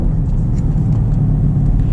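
Exhaust of a 2019 Chevy Camaro SS 1LE gargling with a low, loud, steady burbling rumble, heard close and alone for a couple of seconds.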